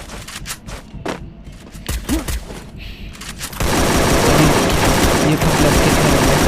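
Rapid gunfire in the mobile battle-royale game Garena Free Fire, a burst of separate shots followed by a loud, dense continuous barrage of automatic fire.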